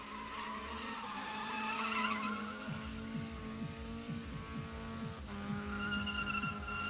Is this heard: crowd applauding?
no